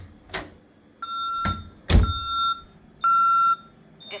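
Honeywell Vista 20p alarm system keypad beeping during a front door test: two sustained, steady beeps about half a second each, with a few sharp door thuds and clicks between them.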